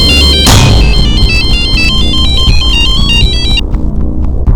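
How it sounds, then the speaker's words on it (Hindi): A phone ringtone plays on an outgoing call in a crime drama: a loud, busy electronic melody of repeating bright tones over a dense, cluttered background, with no talking. "उसके बाद मैंने जोया को रात को फिर से फोन किया।"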